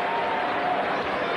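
A basketball crowd at a Purdue at Indiana game in 1995 cheers and applauds Indiana's defense, a steady, dense roar of clapping and voices that fills the whole moment.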